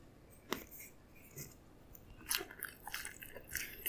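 Biting into a McDonald's Shanghai snacker, a sharp crunchy bite followed by a few softer chewing crunches, close and fairly quiet, no talking.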